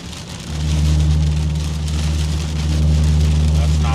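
Steady rain drums on a vehicle during a storm chase, a dense continuous hiss layered over a loud low engine hum from the car, with no talk.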